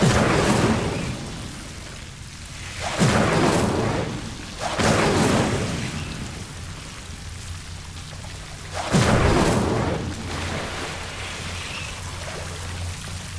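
Incendio fire spell cast repeatedly in Hogwarts Legacy on Xbox Series X, three sharp fiery bursts with rushing crackle over a low ambient hum, each flare fading before the next.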